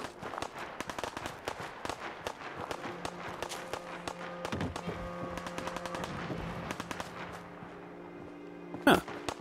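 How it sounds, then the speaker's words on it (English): Rapid gunfire crackles in Fallout 4, bursts of automatic shots mixed with single reports, fairly distant under ambient game sound, with one sharper louder hit near the end. "And I already hear shooting."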